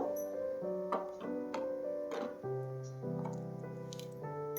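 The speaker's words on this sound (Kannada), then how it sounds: "ಇವಾಗ ಉದ್ದಿನ ಬ್ಯಾಳಿ ಹಿಂಗೆ ಕುದಿಲತ್ತದ್ರಿ" Urad dal soup boiling in a pot on the stove: continuous wet bubbling and soft popping blips close by, fairly quiet and irregular, with no talk over it.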